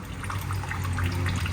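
Water trickles into a cistern as a soft, quiet, continuous dribble under a low background hum, brief and steady.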